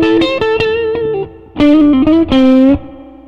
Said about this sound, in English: Here on the neck pickup, it sounds great.